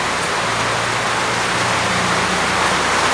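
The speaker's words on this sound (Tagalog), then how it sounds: "Ayan ang ulan, oh. Oh. Maulan guys. Ayan, oh. Lakas ng ulan." Heavy rain pours down in a dense, steady hiss that stays loud and unbroken throughout, with no voices over it.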